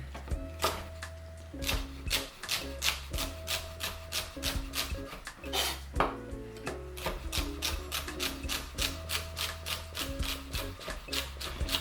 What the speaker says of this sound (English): But first I need to cut it into these strips.